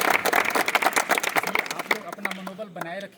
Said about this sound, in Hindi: एक बार जोरदार ताली